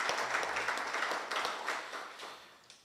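Applause at a laboratory grand opening ceremony honouring a former veterinary medicine dean, steady moderate clapping from an audience, fairly distant and even throughout.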